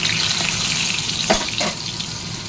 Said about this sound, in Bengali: পটলগুলো ভেজে নিই।